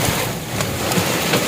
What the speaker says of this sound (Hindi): बारिश जोर दी है